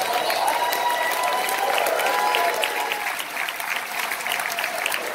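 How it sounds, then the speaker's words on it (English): Audience applause at a corporate marketing event, a steady dense round of clapping from a large crowd lasting throughout, loud and close with slight easing near the end. "Let's give another big, easy size round of applause."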